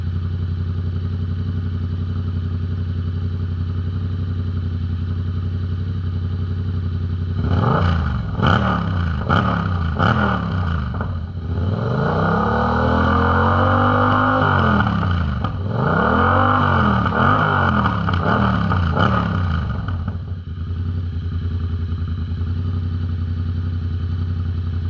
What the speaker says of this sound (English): I'll give another rev for you guys.